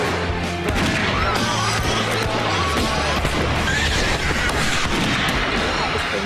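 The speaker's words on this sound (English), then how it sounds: "Gunshots" Loud, chaotic volleys of gunfire crack repeatedly over a rumbling, noisy background, with scattered crashes and no clear pause.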